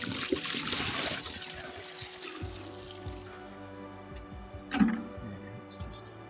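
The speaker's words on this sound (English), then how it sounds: "let's tip a bit out, give it a slosh" Liquid sloshing inside a motorcycle gas tank and tipping out in a trickle: a steady wet swish and dribble, close by, with a brief splashy burst just before the end.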